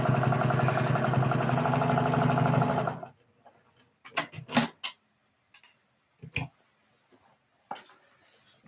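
A sewing machine stitches along the side of a fabric reading pillow with a steady, close mechanical whir for about three seconds, then stops, leaving scattered handling clicks and rustles.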